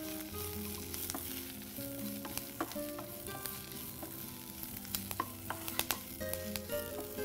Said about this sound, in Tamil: இதை நல்லா முதல்ல வதக்கிக்கோங்க.